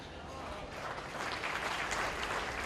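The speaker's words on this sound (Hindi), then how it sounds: "ताली किसके लिए बजा रहे हो मेरे भाइयों?" A crowd at an outdoor political rally claps in sustained applause that swells slightly louder toward the end, a dense, continuous patter of many hands with no clear voices over it.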